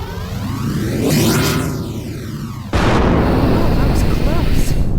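A sudden, loud explosion in the video game Overblood bursts out mid-clip, following a rising whoosh and leaving a dense roaring rumble that fills the rest of the scene.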